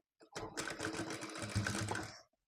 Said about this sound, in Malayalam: നമ്മുടെ അരികു വശത്ത് കൂടെ നല്ലോണം അരികു വശത്ത് കൂടെ സ്റ്റിച്ച് കൊടുക്കുക.